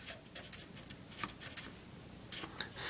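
A pen scratches across paper up close, writing out a chemical compound name by hand in short, faint bursts of strokes with small pauses between.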